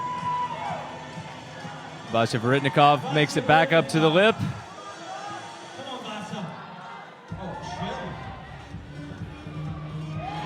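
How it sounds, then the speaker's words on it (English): Spectators at the ABS 15 national bouldering championship open finals cheer in the background, a lively crowd roar rising and falling under a commentator's continuous talk. "Crowd is on their feet."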